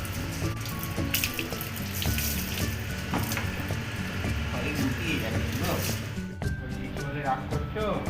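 Water splashes and pours over a Labrador puppy during its first bath, a close running-water patter that runs under almost constant talking.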